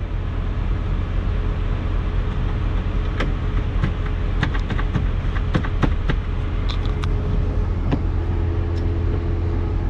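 A damaged Amazon delivery van engine idles steadily with a constant low hum, joined by scattered clicks and taps from inside the vehicle.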